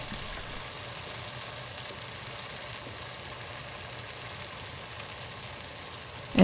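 Garlic and ginger paste sizzles in hot oil, a steady broadband hiss that holds evenly throughout with no talk, close and moderately loud.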